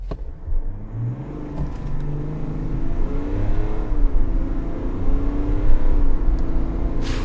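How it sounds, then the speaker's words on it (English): A Chevrolet Tahoe Premier pulls away from a stop after being brake torqued on level ground at night. The engine note rises steadily into a loud, close acceleration roar with a climbing whir, heard alone without talk. "we're going to brake torque it."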